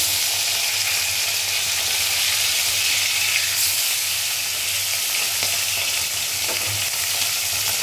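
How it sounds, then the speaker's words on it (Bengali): Pomfret fish frying in a pan with oil, giving a steady, loud, close sizzle and crackle throughout, with no voices. "আমি মাছটা বেশি কড়া করে ভাজবো না"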